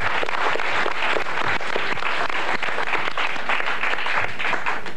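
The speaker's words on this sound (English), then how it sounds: "let's have a round of applause for 4 terrific players" Studio audience at a 1980–81 varsity high school quiz bowl broadcast applauds the quiz players, a steady dense clapping that fills the room for several seconds without a break.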